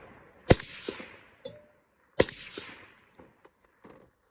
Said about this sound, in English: sent a couple rounds downrange.